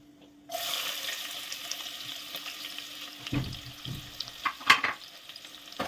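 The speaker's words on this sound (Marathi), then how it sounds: "कांदा छान भाजून घेऊया." Chopped onion frying with spices in a pan for a Kokani-style mutton curry, a steady sizzle throughout with a few clinks and stirring scrapes toward the end, no voices.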